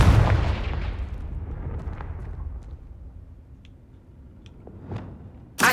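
A Confringo blasting spell in Hogwarts Legacy lands with a single heavy, booming explosion at the start, whose rumble slowly fades over several seconds, followed by a few faint ticks and a sharp burst at the very end.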